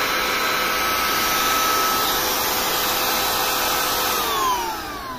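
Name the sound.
cordless hair trimmer running at speed 6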